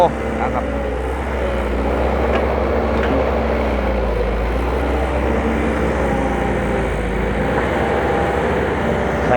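A dump truck with a direct-injection turbo diesel engine drones steadily and loudly at low pitch throughout, its constant engine rumble filling the whole stretch with a continuous mechanical hum.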